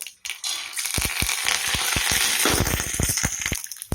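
Mustard seeds crackle and sizzle in hot oil for tomato rice, a dense frying hiss broken by many sharp popping bursts, close and loud.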